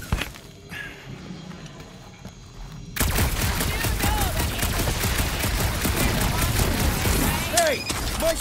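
Continuous rapid gunfire in Marvel's Guardians of the Galaxy bursts in loudly after a quiet opening and keeps going as a dense, close volley of shots mixed with effects and other game sounds.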